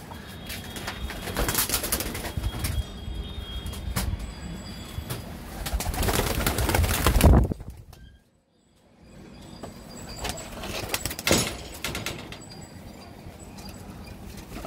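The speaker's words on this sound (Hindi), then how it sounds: "देखो कबूतरी को कैसे दड़ा रहा है" A male Kusri pigeon coos while chasing a female in a coop, with low rolling coos and rustling building to a loud flurry, then a brief hush before softer cooing and scuffling resume.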